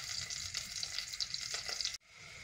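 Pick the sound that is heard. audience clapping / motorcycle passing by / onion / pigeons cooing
onion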